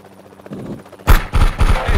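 A helicopter in the VR shooter game Bullets and More starts up abruptly after a quiet start, its loud thumping rotor pulses arriving in rapid, heavy beats close by.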